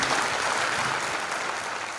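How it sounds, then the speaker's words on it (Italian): An audience claps for a live band at a theatrical concert, a dense, even applause holding steady and close throughout with no talking. "facciamo un applauso perché ve lo meritate tutto"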